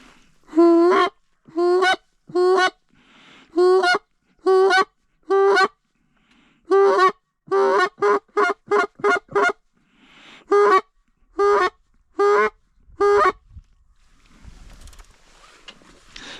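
A goose call flute imitating goose honks, blown in a rapid series of about eighteen loud, nasal, close honks in bursts and quick clusters, then quiet at the end.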